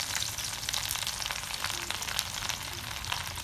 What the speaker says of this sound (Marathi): लसण बी चांगला तळून घ्यायचा आहे